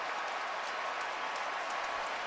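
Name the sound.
applause from fans in stadium suites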